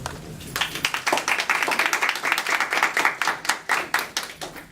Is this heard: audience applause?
yes